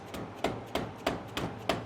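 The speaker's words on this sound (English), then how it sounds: "gonna grab a rubber mallet, a dead blow hammer, see if we can pop this off." A rubber dead blow mallet strikes a part on a Suzuki LTZ 250 street quad engine during a refresh, trying to knock it loose. Five sharp, close knocks land in a steady rhythm, with no talking.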